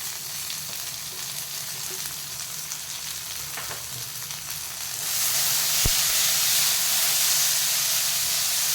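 Tomatoes and capsicum frying with onions in a pan for masala poha, a steady loud sizzle that swells brighter and stronger partway through, with one brief clank near the end.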